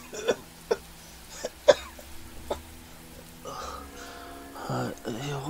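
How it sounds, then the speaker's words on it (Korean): Several sharp coughs, close by and irregularly spaced, followed by someone speaking. "기침이 심하게 나더군요"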